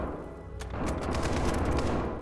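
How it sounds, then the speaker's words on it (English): Rapid gunfire in the SCP 5k video game crackles in dense, overlapping bursts over a low rumble, loud and close, with no voices during the volley. "Gunfire up ahead. Why is there so much gunfire?"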